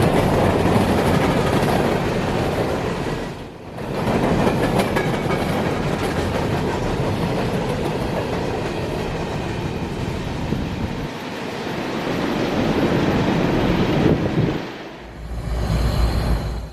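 A freight train rolls past on steel rail at close range, a loud steady rumble with clickety-clack of wheels over joints, two brief dips in the roar along the way, with no talking.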